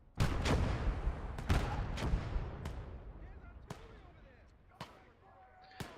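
Small cannons firing in a video game battle, a series of sharp, loud booms spaced irregularly, several close together at first and then fading to a few quieter distant shots, with voices heard in between.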